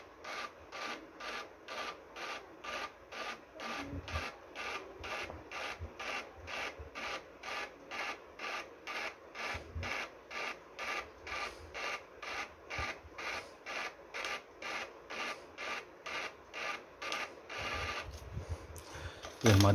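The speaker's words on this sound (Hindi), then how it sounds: "इसके बाद हम दबाएंगे प्रिंट वाला बटन और आपके सामने शिफ्ट रिपोर्ट निकलना स्टार्ट हो जाएगी" An Everest DPU receipt printer prints a shift report, a steady close run of evenly spaced mechanical rasps repeating about twice a second, ending in a brief louder clatter.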